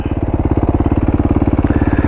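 A 2012 supermoto motorcycle fitted with a Q4 exhaust and running street tires revs close by with a steady, loud pulsing engine note as it shifts through the gears, with no talking.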